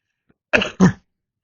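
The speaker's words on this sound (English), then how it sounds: "Excuse me, I have to cough." A single person coughs twice in quick succession, loud and close, with a brief hoarse throat-clearing quality; no talking.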